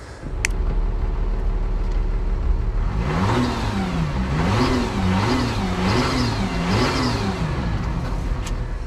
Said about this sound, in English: we'll hear this turbo diesel